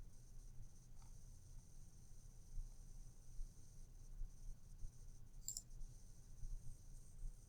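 Single computer mouse click heard faintly over a low steady hum, with a second brief click a few seconds later; no voices.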